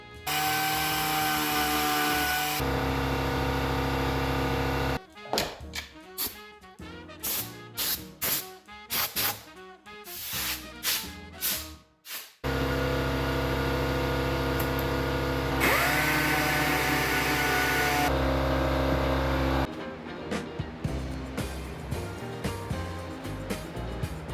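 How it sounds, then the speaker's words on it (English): A power sander whines steadily and loudly, broken up by stretches of stuttering, uneven grinding as it sands paint down to rust spots on a Sprinter van. "I'm sanding down to the rust spots."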